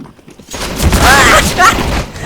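Gunfire in the video game CS:GO bursts out loud and close in a short volley of rapid shots that swell and fade over about two seconds, with a voice talking over it.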